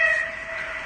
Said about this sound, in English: That's a flipping train. That's a steam train.